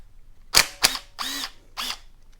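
A power tool whirs in several short bursts as bolts come off a 2022 Honda Grom motorcycle, two sharp spins followed by two longer runs, close and loud with no talk.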